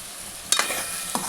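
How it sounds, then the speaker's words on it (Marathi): Masala spices with turmeric, coriander powder and red chili being sautéed in a pan, a close steady sizzle with two quick spoon-stirring scrapes. "अशा प्रकारे मस्त आपण मसाला परतून घेतलेला आहे।"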